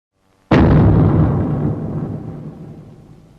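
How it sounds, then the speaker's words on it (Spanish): A single giant monster footstep lands as one huge, close booming impact, followed by a long rumbling decay that fades over a few seconds. "hasta que de pronto se escucharon unos pasos"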